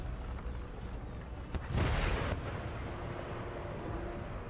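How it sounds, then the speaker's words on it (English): Artillery fires round shot in Empire: Total War: one booming blast lands in the middle, followed by a rumbling decay over a low battlefield background. "All of our artillery fires off at the enemy artillery."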